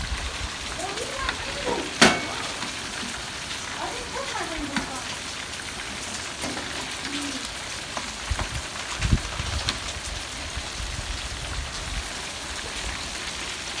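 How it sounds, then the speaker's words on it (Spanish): Soft, steady rain patters on surfaces in the background, with scattered drips and a few sharp taps, while a person talks intermittently. "está lloviendo."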